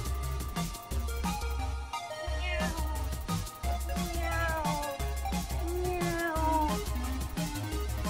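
A person imitates a cat, giving repeated sliding meow-like calls over bouncy music with a steady beat.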